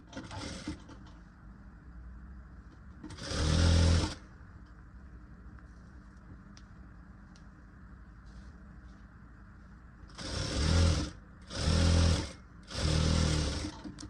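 Sewing machine stitching a katori blouse, running in four short loud bursts: one near the start, then three in quick succession after a long quiet pause.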